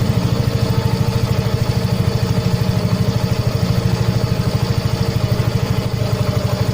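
A Yamaha Mio M3 fuel-injected scooter engine idles steadily up close during a service adjustment, with a fast, even, putting pulse and light mechanical clatter and no voices.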